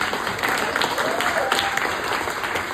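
Audience applause at a Hall of Fame induction speech, a steady wash of clapping from a crowd holding even for a few seconds with no one speaking over it.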